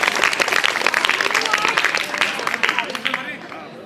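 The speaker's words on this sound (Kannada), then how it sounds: "ತಮ್ಮೆಲ್ಲರ ಪ್ರೀತಿಪೂರ್ವಕವಾದಂತಹ ಚಪ್ಪಾಳೆ ಬರಬೇಕು ಅಂತ ಕೇಳ್ಕೊಳ್ತಾ ಇದ್ದೀನಿ" An audience claps at a lamp-lighting inauguration ceremony, brisk and loud at first, then thinning and fading toward the end, with a faint murmur of voices beneath.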